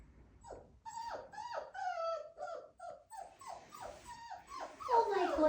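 A puppy from a litter whimpers and yips in a string of high, wavering cries and short squeaks, close and fairly quiet, growing more insistent toward the end.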